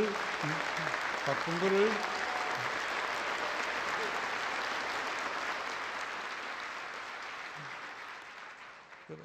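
Sustained audience applause fills a hall at a national prayer breakfast, holding steady before slowly tapering, with brief speech audible early on under the clapping.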